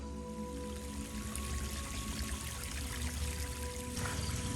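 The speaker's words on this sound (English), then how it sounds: "the water flows really pretty from this way" Water flows steadily along a small garden pond stream, a soft continuous rush and trickle heard alone at low level.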